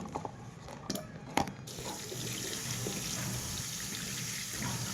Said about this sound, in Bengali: এর জন্য প্রথমেই আমরা মাশরুমগুলোকে ভালো করে জলে ধুয়ে নেব।